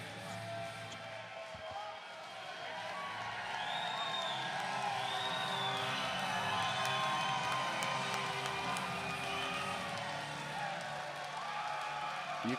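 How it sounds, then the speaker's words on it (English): Crowd at a cross-border darts challenge cheering and whooping in a steady, loud roar with clapping throughout, rising slightly after the first couple of seconds and holding. "You can hear the crowd, folks."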